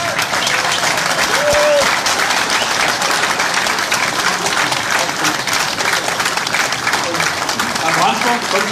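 Audience applause welcoming Jörg Meuthen, AfD federal chairman, at an event in Köthen: dense, loud, steady clapping from a crowd that fills the whole stretch, with voices mixed in.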